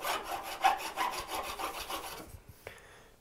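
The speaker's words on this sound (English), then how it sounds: "So I'm going to grab a different file for that. Mill file here." A mill file rasping across wood while making a panel gauge, steady back-and-forth strokes at moderate loudness, then trailing off into a few quieter scrapes and taps near the end.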